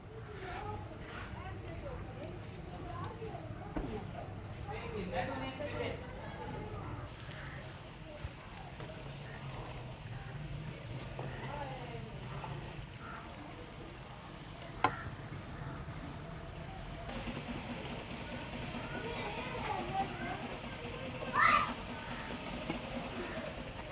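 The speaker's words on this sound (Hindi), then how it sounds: "अभी ये ऑयल हमारा गर्म हो चुका है। अब इसमें ऐसे हम डालेंगे।" Potato fries drop into hot oil and fry for a restaurant-style batch, giving a continuous low crackling sizzle while a person talks over it.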